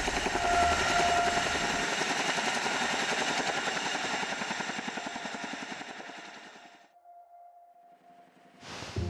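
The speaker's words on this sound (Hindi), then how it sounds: "इंडियन एयरफोर्स का चिनूक, जो कि बहुत हैवी लिफ्टिंग हेलीकॉप्टर माना जाता है" An Indian Air Force Chinook heavy-lift helicopter drones loudly with a fast, steady rotor chop. The sound fades almost to a thin whine late on, then swells back in sharply at the very end.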